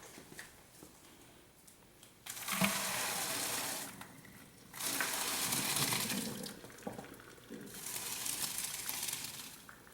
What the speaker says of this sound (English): I'm gonna strain the water.